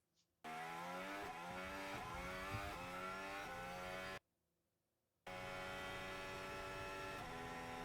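A high-pitched Formula 1 car engine at Suzuka revs hard, climbing and dropping through quick gear shifts, cuts out for a moment, then screams back at full revs.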